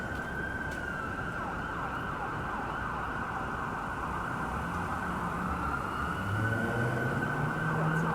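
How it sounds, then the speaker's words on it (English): Emergency sirens wail steadily from a distance over city traffic rumble at University Avenue and Richmond Street West in Toronto on a Saturday night, the tone sweeping and growing slightly louder toward the end. "Sirens happening."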